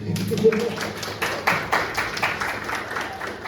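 Applause from a premiere audience at a Kharkiv comedy-league event, a short burst of scattered clapping that rises after a brief stretch of talk and carries on at moderate volume.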